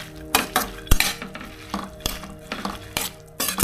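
Bamboo shoot curry being mixed with boiled mung beans, onion and tomato in a pot, a spoon scraping and knocking against the metal in repeated strokes, close and fairly loud, with sharp clinks between the stirs.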